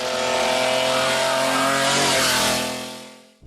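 A powerful 700-horsepower BMW Le Mans V12 engine fitted in an X5 revs hard and high, a loud sustained roar that climbs and then fades away near the end, with no voices.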